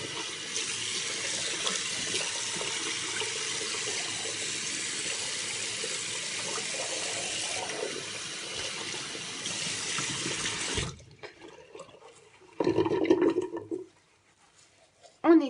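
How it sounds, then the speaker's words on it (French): Lukewarm tap water runs steadily from a faucet while a face is rinsed, a loud continuous gush that stops abruptly, followed by a short burst of splashing and a final brief splash. "on va rincer à l'eau tiède"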